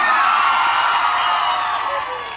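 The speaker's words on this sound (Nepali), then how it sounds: "सुपर डान्सर विजेता खोरिना गगोई बहिनीको लागि एक जोरदार तालीले स्वागत गरौँ त" Audience welcoming Super Dancer winner Khorina Gogoi onto a stage with a loud, steady wash of cheering and applause that fills the short moment and tapers slightly at the end.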